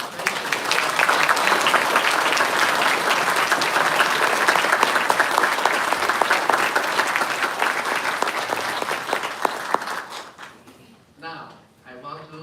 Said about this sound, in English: Let's give a round of applause to appreciate.